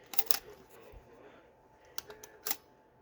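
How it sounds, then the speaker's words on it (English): Kodak Brownie Target Six-20 box camera's spring shutter, a few faint sharp mechanical clicks and clacks spaced apart in a quiet room. "you pull that down, as you see the shutter quickly opens and closes to take the photo"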